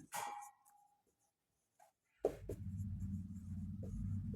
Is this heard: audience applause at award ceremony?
no